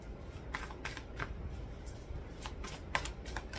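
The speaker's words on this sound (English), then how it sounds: "One more shuffle." Tarot cards are shuffled in several quick riffling bursts, soft papery flicks at close range recurring through a quiet room with no talking.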